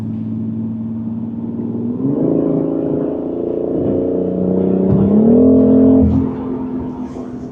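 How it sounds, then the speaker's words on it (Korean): A new BMW X3 in sport mode revs its engine, a steady idle hum rising into two distinct louder revs with climbing pitch before dropping back, close and clear with no talk. "스포츠 모드를 활성화하면은 이제 엔진음이 확실히 더 커지는 게 느껴질 수 있고"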